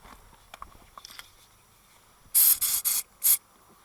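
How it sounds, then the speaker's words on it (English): Silicone spray aimed at an ABS sensor plug on a Volvo V50 during front suspension work: four short, loud hissing bursts in quick succession after faint handling clicks. "Before you put the plug in, spray it with silicone."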